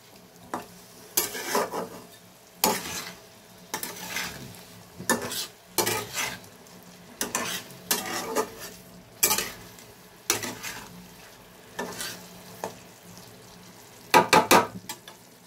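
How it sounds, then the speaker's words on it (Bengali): Food being stirred and fried with spices in a pan: repeated scraping strokes of a utensil in an irregular rhythm over a low sizzle, close and fairly loud, with no talking. "ভালো করে এবার মশলার সাথে একটু নাড়াচাড়া করে নিই।"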